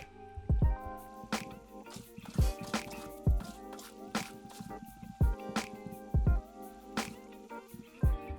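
Flowing water in the Minecraft video game, used in a channel to funnel witches in a farm, gives repeated wet dripping and squishing sounds at an uneven rhythm, fairly close, with no talk.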